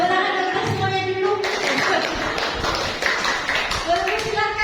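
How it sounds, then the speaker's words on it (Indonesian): An audience at a school event claps in a dense, fairly loud patter through the middle, while voices and a tonal sound are heard at the start and the end. "Tepuk tangan untuk semuanya dulu."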